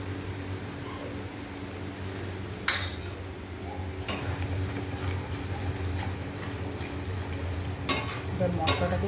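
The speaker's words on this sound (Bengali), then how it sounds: "এবার মশলাটাকে কষিয়ে নেব।" Spices with turmeric and cumin powder are stirred in a frying pan, giving a steady sizzle broken by occasional loud scrapes and clinks of a utensil against the pan.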